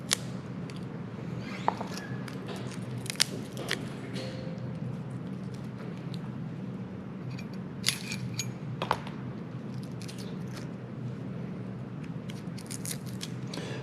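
Fresh garlic cloves being peeled by hand in a kitchen: soft papery rustling and crackling with scattered small clicks and taps, close and fairly quiet, no talking.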